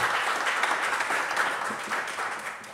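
An audience at a nutrition-labelling event applauds in a dense, continuous wash of clapping that holds steady and loud for the whole stretch, with no talking over it.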